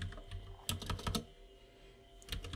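Code being typed on a computer keyboard in quick clustered bursts of key clicks with a pause in the middle, close and fairly quiet, no talking.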